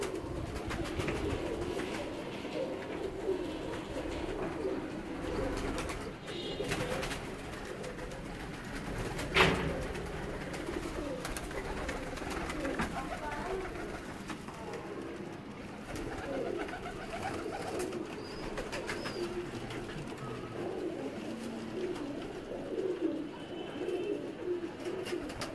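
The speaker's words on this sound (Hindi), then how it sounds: "ये सारे ब्रीडर हैं और ये बच्चे हैं इनके निकले हुए ब्रीडर कबूतरों के" Breeder pigeons and their young coo steadily inside a dark loft, a dense, continuous murmur of soft low coos from many birds close by, with one brief louder flutter partway through.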